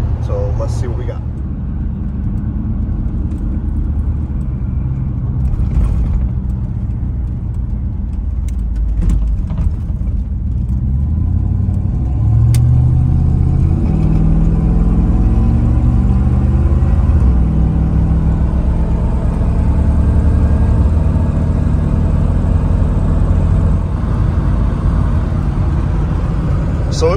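A square body Chevrolet Suburban rumbles along at highway speed, a loud, steady low engine and road drone filling the cabin throughout, with a gradual rise in pitch as it accelerates.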